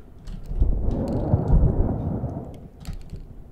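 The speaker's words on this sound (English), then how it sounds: "Thunder and lightning, very, very frightening." Thunder rumbles in the horror video game Blameless, a deep, rolling boom that swells and fades over a few seconds, with faint rain-like hiss and no talking.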